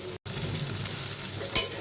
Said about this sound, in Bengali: একটু নাড়া দিয়ে দিচ্ছি চিংড়িটা ভালো করে তেলের উপর ভাজা হচ্ছে